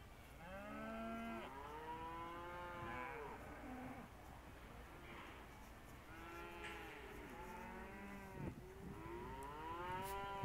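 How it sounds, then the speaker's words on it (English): Dairy cows at a sale barn mooing repeatedly, long drawn-out bellows from several animals overlapping and rising and falling, fairly close in an echoing indoor space. "Those darn dairy cows, they don't even act like cows."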